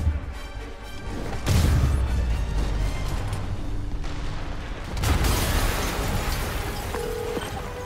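Two heavy explosions in Marvel's Spider-Man Remastered, each a sudden booming burst followed by a rumbling, crackling tail, amid game ambience with no speech.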